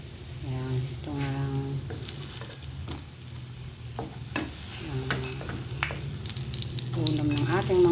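Corned beef omelette sizzles and crackles in a frying pan as it is stirred and turned, with voices talking over the steady frying throughout.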